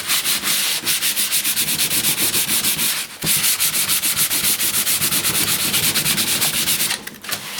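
Rhythmic back-and-forth rubbing of 220 grit sandpaper on a stained wood veneer panel, close and steady, with strokes repeating densely over several seconds and a brief pause midway.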